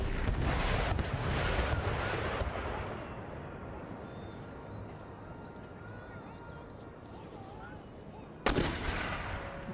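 Mortar and artillery fire rumbles through a battle in the video game Empire: Total War, with a loud opening barrage fading into a distant murky din and one sharp close blast near the end, while someone talks over it.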